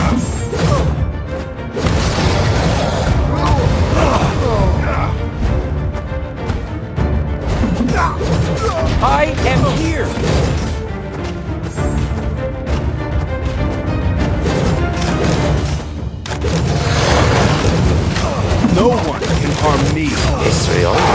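Cannon fire and explosions in a strategy video game hit in a dense, loud barrage of crashes and booms over a busy backdrop of shouted battle commands, with only a couple of brief lulls.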